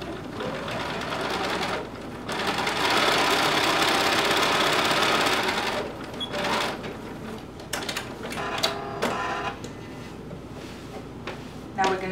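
A sewing machine stitches across the top of a leather garment in steady runs, loud and close, with pauses and rattling clicks between bursts.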